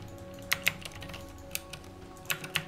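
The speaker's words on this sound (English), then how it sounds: "I'm typing" Typing on a computer keyboard during a League of Legends session, with scattered quick clusters of key clicks over a quiet hum, close and moderately loud, with no talk.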